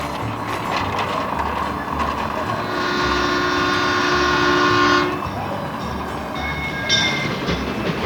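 A Union Pacific freight train rumbles past close by in Seneca, Kansas, with a steady roar and clatter, a sustained horn sounding in the middle, then the rumble continues.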